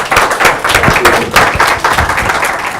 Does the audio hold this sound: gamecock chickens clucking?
no